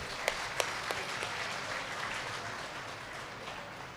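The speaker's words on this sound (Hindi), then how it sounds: "एक बार गुरु जी महाराज के लिए मेरे तरफ से सब लोग ताली बजाओ जोर से।" An audience at a saints' gathering in a Neelkanth Mahadev temple claps for the guru, a dense, steady round of applause with a few sharper claps standing out near the start.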